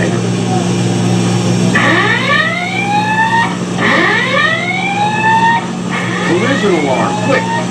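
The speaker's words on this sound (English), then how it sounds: "Collision alarm, quick!" A ship's collision alarm repeatedly sweeps downward in pitch, loud over a steady engine-room hum, with a voice talking underneath, aboard the Laffey.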